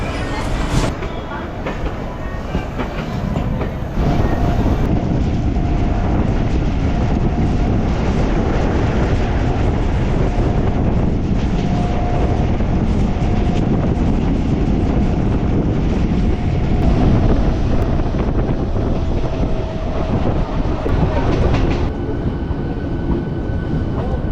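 Train at Tarakeswar station on a cloudy, lightly drizzly afternoon, with a loud continuous rumble and rattling clatter of rail cars running close by for the whole stretch, and faint voices mixed into the din.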